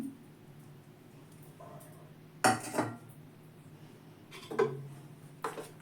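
Dried fruit dropped into cake batter in a bowl, giving a few distinct clinks and soft thuds of utensil against the bowl separated by quiet pauses.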